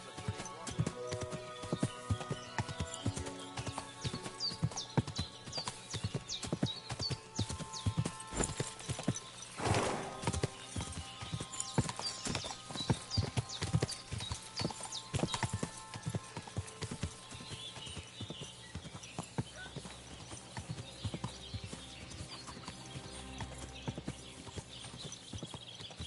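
Horse hooves clip-clop in a steady walking rhythm, with an occasional whinny and some background noise throughout, in the video game Kingdom Come: Deliverance II.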